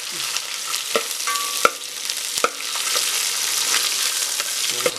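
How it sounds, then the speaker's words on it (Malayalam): A loud, even sizzle fills the pan as green chilli, ginger and garlic are stirred for a beef fry, with light clicks and scrapes of the spoon scattered throughout and no talking. "നന്നായി ഇളക്കുക"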